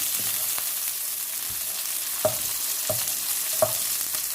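Chicken and vegetables stir-fry on high heat, a steady close hiss and sizzle with a few sharp clinks of a utensil against the pan.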